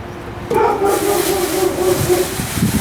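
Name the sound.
neighbour's dog barking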